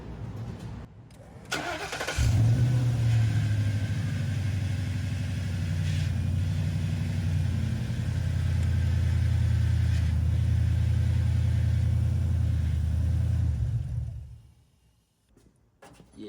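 An old truck's engine cranks and fires, then settles into a steady, close, rumbling idle for about twelve seconds before shutting off and falling quiet.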